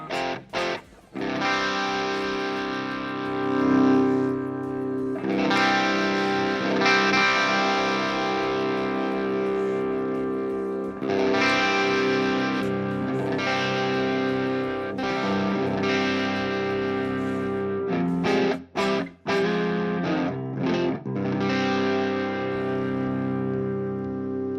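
An electric guitar played through the Audio Assault Amp Locker amp simulator rings out in sustained distorted chords, with several long strummed phrases separated by brief gaps and a few choppy muted hits. No voices are heard.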